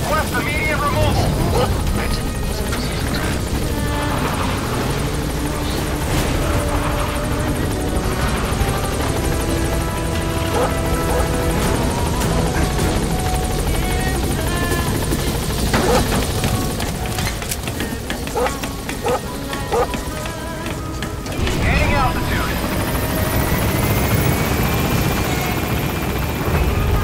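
A helicopter hovers over a landing zone in the stealth game Metal Gear Solid V: The Phantom Pain, its steady rotor drone loud and continuous throughout, with game voices and other effects layered over it.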